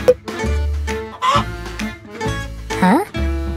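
A toy chicken gives a run of loud, close, nasal clucks and squawks in short bursts, with one rising squawk near the end.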